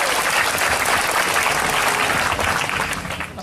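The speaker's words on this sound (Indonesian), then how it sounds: "Kita tepuk tangan untuk Pak Muzamil." Audience at a Cak Nun gathering breaking into loud, dense applause for a speaker, a broad wash of many hands clapping close by that holds steady, then fades slightly at the end.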